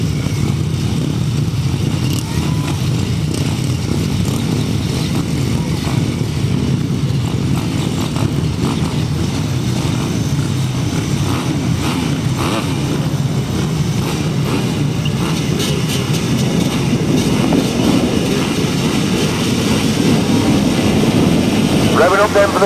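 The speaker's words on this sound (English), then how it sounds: "Revving up then for the 250 solo final" A pack of 250cc solo grasstrack racing motorcycles roars and revs continuously at a grass-track meeting, a dense loud engine drone swelling toward the end, with an announcer talking over it.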